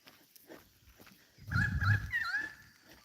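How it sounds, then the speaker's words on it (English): A currawong calls in the early morning on the east coast, loud and close, with swooping, warbling notes over a short stretch of about a second. "That's a Currawong."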